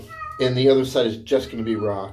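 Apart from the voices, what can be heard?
cat meowing outside the door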